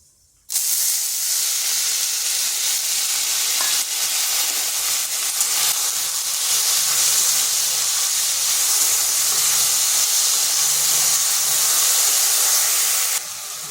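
Diced potatoes dropped into hot oil tempered with whole cumin, bursting into a sudden loud, steady hiss of sizzling that holds constant for over twelve seconds with no talk.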